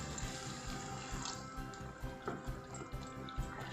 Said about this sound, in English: Now we'll add in half a cup of water to this.